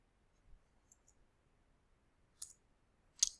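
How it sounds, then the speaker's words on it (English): A computer mouse in an otherwise quiet room gives two crisp, faint clicks near the end, with a couple of tiny ticks before them. "Once we click OK,"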